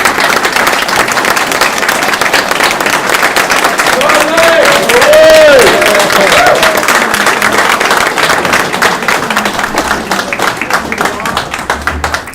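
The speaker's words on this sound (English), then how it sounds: "So I just think he deserves another round of applause." A union general membership meeting audience applauds Charlie White, a dense, steady wash of clapping lasting the whole stretch with a few brief tonal voices or whistles mixed in mid-way.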